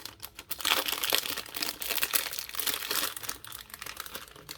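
Plastic packaging of a Takara Tomy Dragoon Victory Beyblade (B-173 Plastic Gen Remake) crinkles and crumples continuously as it is torn open close by, with sharp rustling bursts throughout.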